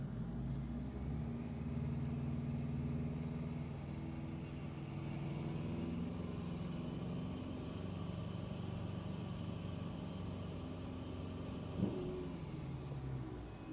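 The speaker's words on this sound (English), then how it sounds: "I gave it enough throttle. So latched launch RPM." A 2010 Subaru Impreza STI engine holds a steady rev at its latched launch RPM, a loud, sustained droning rumble with little change over many seconds and a brief bump near the end.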